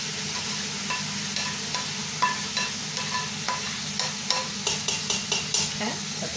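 Onion, green pepper and tomato sizzle with beef in hot oil for a Cuban beef stew: a steady close frying hiss broken by regular scraping stir knocks, with no talking.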